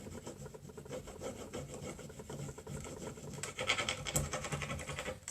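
Hard rubbing of transfer lettering onto a wooden growth-chart board with a lighter, a steady close scraping rasp that grows busier and a little louder toward the end, with no talking.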